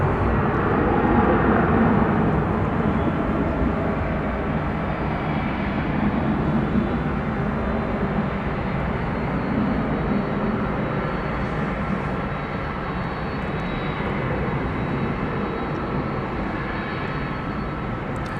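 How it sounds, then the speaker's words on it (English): An American Airlines Boeing 737-800 at DFW Airport at night gives a steady, broad jet roar that stays fairly constant, slightly fading toward the end. "Poking into the screen there from your left is American Flight 790 off to Colorado Springs, a 737-800."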